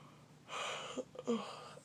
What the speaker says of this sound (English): Sorry if I'm yawning a lot.